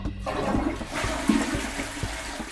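A toilet flushes up close with a loud, steady rush and gurgle of water that carries on for a few seconds, with no talking.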